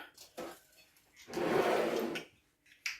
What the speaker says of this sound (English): So I have a lid drawer.